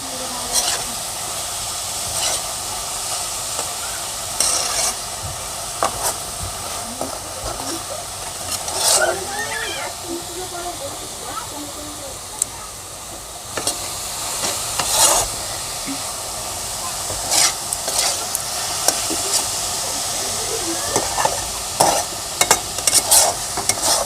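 Coconut filling mixed with jaggery fries in a wok for a palm pitha, with a constant sizzle and repeated, close scraping and clicking of a spatula as it is stirred.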